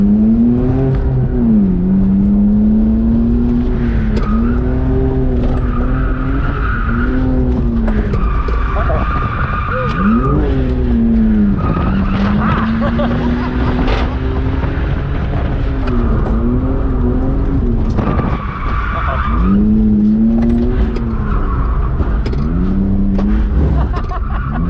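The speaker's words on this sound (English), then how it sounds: "I got so close to linking that. I'm so sad. What? Linking, that's where you connect both corners." A BMW E46 drift car on a track slides through corners with long, loud tire squeals and a revving engine rising and falling, continuous and close throughout.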